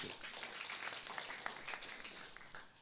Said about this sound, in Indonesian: Beri tepuk tangan dulu bagi Tuhan.